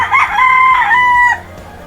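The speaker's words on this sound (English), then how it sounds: "Got a rooster right there." A single loud, close rooster crow rings out, rising and holding before cutting off.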